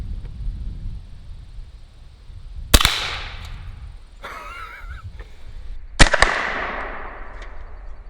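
A Pistelle X-68 fires two sharp, loud shots a few seconds apart, each striking a soda can on a table with a crisp crack and brief ringing tail, with a rustling scrape between them.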